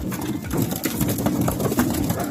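Racing pigeons crowded in a basket coo and flap their wings, a close, dense flurry of soft cooing and fluttering that goes on without pause.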